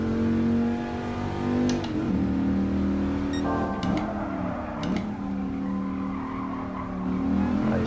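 A Dodge Viper in the racing game Gran Turismo Sport, its engine droning steadily and loudly while the tyres squeal through several skids, with the engine note shifting as it slides.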